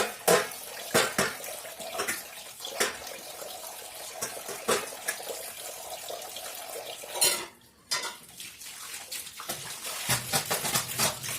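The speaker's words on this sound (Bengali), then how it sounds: "বাবা জলের এত আওয়াজ, এত ঠান্ডা জল" Tap water runs steadily while dishes, pots and cutlery are washed in cold water, with repeated clinks and clatters of utensils over the constant flow.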